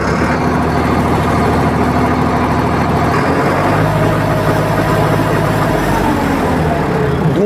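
A Swaraj 963 CRDI tractor engine idles at about 700 to 800 rpm while slightly cold, a steady, loud, low diesel chug that stays close and continuous throughout.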